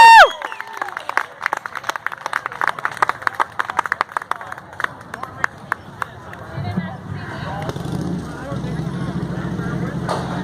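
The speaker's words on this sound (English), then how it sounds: "one more time, let's give a big round of applause for Kyle." Audience clapping at a talk where a young man has just shared his story, sharp irregular claps over steady crowd noise, fading into a lower murmur with voices toward the end.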